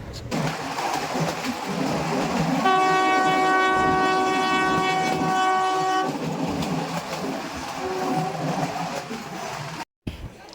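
A train horn blares loudly for several seconds at a station over the rumble of rail cars, followed by a shorter horn blast as the train keeps moving.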